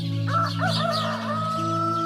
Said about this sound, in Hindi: टिंकू, तू मुर्गियों के लिए बर्तनों में पानी रख दे, मैं मुर्गियों को दाना डाल देती हूँ।